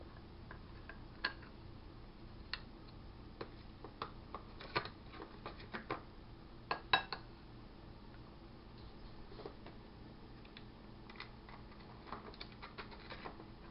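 Ice cubes are stacked into a pyramid, giving scattered faint clicks and light taps at irregular intervals over a quiet background, with no voices.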